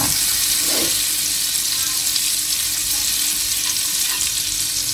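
Butter sizzling and frying in a pan for a butter-garlic lobster curry, a steady, loud crackling hiss that holds evenly throughout with no pauses.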